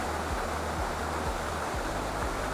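Venford Falls waterfall on Dartmoor, a steady broadband rush of falling water, close and loud, with a few low thuds.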